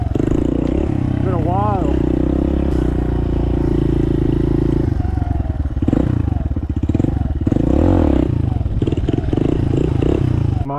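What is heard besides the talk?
Suzuki DR 200 motorcycle engine being kickstarted and running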